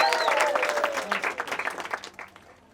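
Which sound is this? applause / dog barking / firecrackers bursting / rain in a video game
applause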